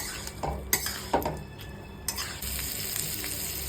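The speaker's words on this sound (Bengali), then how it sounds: "ফুলকপিটা দিয়ে ভালো করে একটু কষাবো" Cauliflower being stirred and sautéed in a pan, with a utensil clinking and scraping against the metal in a few distinct knocks over a low, continuous sizzle.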